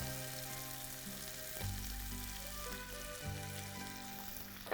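Cumin, ginger, garlic, green chili and onion fry in a pan for a desi-style masala macaroni, a constant close sizzle with soft stirring bumps and a brief surge as ingredients hit the oil.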